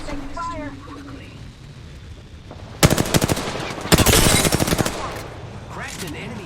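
Two loud bursts of rapid machine-gun fire in the Apex Legends video game crack close by, separated by a short pause, over quieter game sounds and a brief synthetic voice.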